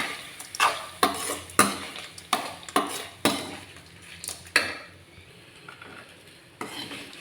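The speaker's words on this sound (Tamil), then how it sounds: "எல்லா சாதத்தையும் சேர்த்து இந்த மாதிரி ஒரு கிளறிட்டேன்" Cooked rice is stirred in a pan with a utensil, producing a series of loud, regular scraping strokes over a light sizzle, then a few quieter scrapes, with no one talking.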